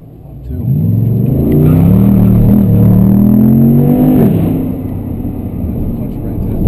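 A muffler-less 2012 Jeep Grand Cherokee SRT8 accelerates hard, its loud, rising engine roar with harmonic sweeps building and peaking, then easing to a steady drone heard from inside the cabin.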